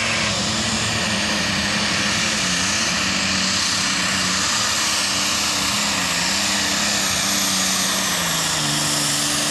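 A super stock diesel pulling tractor roars continuously and loudly at a truck and tractor pull, its engine drone holding steady with slight pitch shifts and no break.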